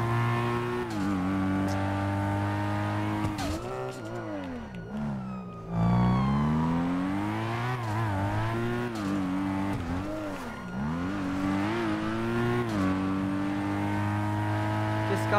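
Car engine in a Brazilian roleplay video game getaway chase, revving hard with pitch sweeping up and down through gear shifts, loud and continuous throughout, with a brief tire squeal midway.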